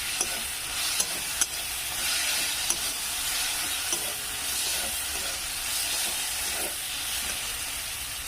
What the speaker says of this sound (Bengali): 1 চামচের মতন এখানে আমি হলুদ গুঁড়ো দেবো। এইভাবে আমি নেড়ে নেবো।